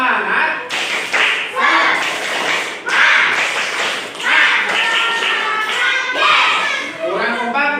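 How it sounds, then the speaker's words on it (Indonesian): A primary school class of fifth graders performs a rhythmic group spirit clap in unison, repeated tapping and clapping beats mixed with children's chanting voices and a teacher's speech, close and fairly loud. "coba kita semuanya tepuk semangat dulu ya"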